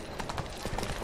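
Roach, the horse in The Witcher 3, trots with quick, rhythmic hoof clip-clops, close and steady over a busy game background.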